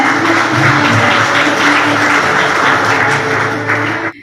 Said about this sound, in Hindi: ताली बजाकर संगीता बहन जी का वेलकम हो रहा है। सभी जोर से ताली बजाएंगे।